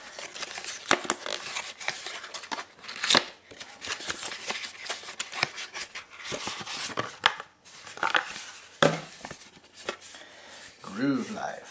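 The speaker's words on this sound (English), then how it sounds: "The packaging's so nice, I don't want to rip it, but I kind of have to" Groove Life wallet packaging is torn open by hand, with crackling, ripping and rustling of paper and card running almost continuously, close and fairly loud, while a voice speaks briefly near the end.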